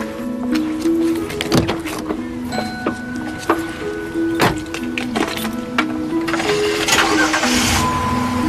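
Car engine starting in a romantic comedy film scene, a mechanical whir and turnover settling into a steady mid-pitched idle with a few clicks and clunks, fairly close and loud with no speech.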